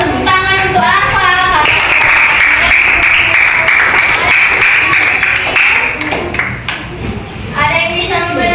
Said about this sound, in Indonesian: Tepuk tangan untuk apa?